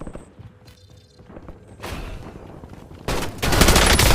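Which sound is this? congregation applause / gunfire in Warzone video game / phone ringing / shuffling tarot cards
gunfire in Warzone video game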